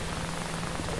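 Steady, dense rain patters on surfaces in a shawarma kiosk video game, a constant wash of sound for a brief moment with no voices.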